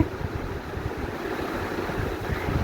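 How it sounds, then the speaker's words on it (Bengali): Long strips of pointed gourd fry in hot oil, giving a dense, steady sizzle and crackle that stays loud and continuous for a few seconds with no talk over it. "এই তেলে আমি এবার পটলগুলোকে দিয়ে দিচ্ছি।"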